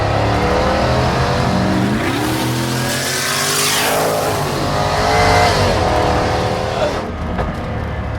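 A Bowler EXRS sports car engine roars close by, revving up and down in rising and falling sweeps, loud and aggressive throughout.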